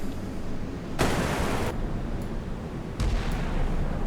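Heavy 14.5 mm naval gun bursts in the naval game Sea Power, two loud sustained blasts of rapid fire around a half-second long each, rising over a constant low rumble of engine and sea noise.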